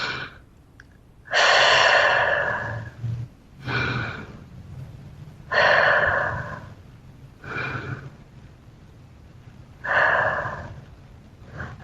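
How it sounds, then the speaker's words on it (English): Slow, deep breaths taken one after another during a mindfulness exercise: long, airy inhales and exhales come close and clear, with short quiet pauses between them and no talking. "T, take 3 deeper breaths."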